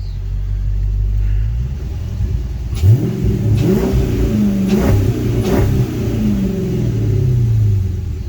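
A first-generation Dodge Magnum SRT engine rumbles loudly at idle, then revs repeatedly in sharp bursts up toward its 4,000 rpm limiter, each rise falling back to a deep throb, heard close and alone.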